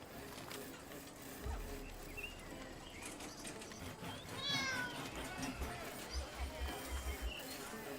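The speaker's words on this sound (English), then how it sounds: "Cat's kind of loud though." A cat meows in the Pompeii: The Legacy city-building game, a rising wavering cry near the middle and shorter mews after it, set over low game ambience and a steady background hum.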